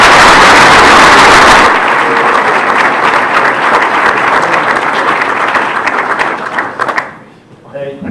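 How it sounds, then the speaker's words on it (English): Audience applause after a regional security panel on the Balkans, loud dense clapping that starts at once, holds steady for several seconds, then fades out as a voice speaks near the end. "let's give him a round of applause"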